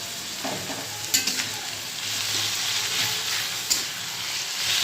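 Taro leaves and chickpeas with salt and turmeric being stirred in a hot pan, a continuous bright sizzle with a couple of sharp spoon knocks, close by and without speech.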